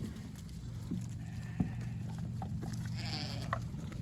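Sheep on a farm bleat a few times at a distance over a steady low rural hum, with faint hoof and movement noises scattered through the quiet evening scene.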